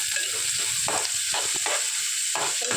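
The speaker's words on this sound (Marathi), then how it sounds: "कांदा आपण 1-2 मिनिटं चांगला फ्राय करून घ्यायचा।" Onion frying in a pan with curry leaves, a steady dense sizzle and crackle throughout, with faint stirring scrapes and no speech.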